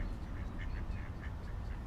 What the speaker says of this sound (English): There are ducks with their babies, ducklets.